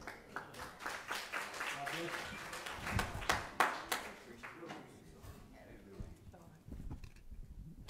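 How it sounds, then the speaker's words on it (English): Church congregation clapping for the choir, many hands beating a quick, uneven rhythm at moderate distance, tapering off toward the end while voices murmur faintly underneath. "Give the choir a hand clap as they come."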